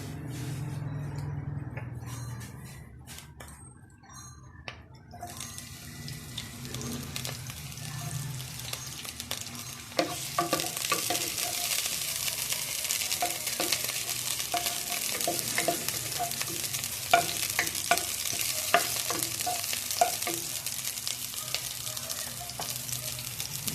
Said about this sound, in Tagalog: magigisa na tayo ng sibuyas